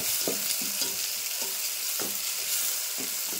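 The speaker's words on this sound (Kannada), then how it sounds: "ಈಗ ಸಣ್ಣ ಕಟ್ ಮಾಡಿದ 3 ಟೊಮೆಟೊ ಒಂದು ಹಾಕೊಂಡ್ರಿ. ಈ ಟೊಮೆಟೊ ಒಂದು ಫ್ರೈ ಆಗುತ್ತೆ" Three finely chopped tomatoes frying in a pan, a steady loud sizzle with regular rhythmic stirring scrapes roughly every half second, no talking.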